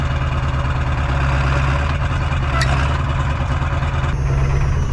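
A Ford 7.3 Powerstroke diesel V8 idles loudly and close after a cold start in snowy weather, a steady low rumbling clatter throughout with no voices.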